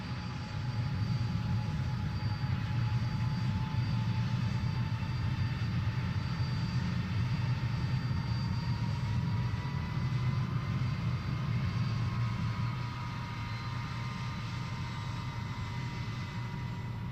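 An airliner engine roars steadily at takeoff, a loud, sustained broadband rumble with a faint whine on top, holding constant and easing slightly near the end, with no voices.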